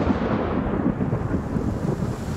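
Thunder and rain in the Afterparty video game: a steady, loud wash of rain with a deep rolling rumble of thunder underneath, continuous throughout with no talk.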